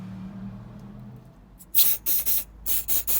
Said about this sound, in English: And a bit of brake cleaner just to clean it off so we don't end up working in a mess.